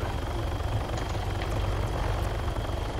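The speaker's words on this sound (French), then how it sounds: "Deuxième hélico qui arrive sur ma position" A helicopter approaching in the video game Arma 3 Altis Life, a loud, steady low rotor thrum and engine drone holding throughout, close and continuous with no talk.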